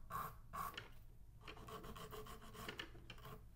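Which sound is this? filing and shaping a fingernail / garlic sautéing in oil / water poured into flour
filing and shaping a fingernail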